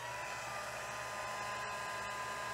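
A heat embossing tool melts embossing powder, giving a steady, loud, even blowing whir like a hair dryer, running continuously and close by.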